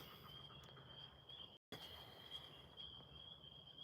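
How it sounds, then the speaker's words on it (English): Tree frogs call outdoors in a steady, high-pitched chorus of overlapping trills, faint and distant-sounding, continuing without a break and with no voices over it. "The tree frogs are coming out."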